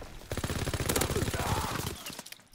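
Automatic gunfire in Call of Duty WWII: a loud, close, rapid burst of evenly spaced shots lasting about two seconds, ending with a single sharp report.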